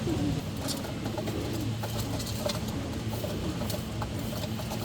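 Soft cooing of pet pigeons or doves over a constant low mechanical hum, with faint chirps scattered throughout.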